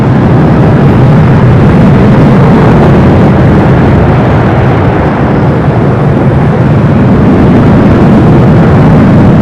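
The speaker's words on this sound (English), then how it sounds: "this is our third A380 Super arrival here at LAX since 8 a.m. this morning" An Airbus A380 arriving at Los Angeles International Airport, heard as a loud, continuous broadband jet roar that holds steady throughout, with no voices.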